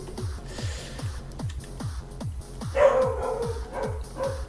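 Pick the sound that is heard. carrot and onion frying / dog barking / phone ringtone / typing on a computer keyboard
dog barking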